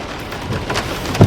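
Rain falls steadily outdoors in a constant hiss of drops on surfaces, fairly close, with a low rumble near the end and no talking.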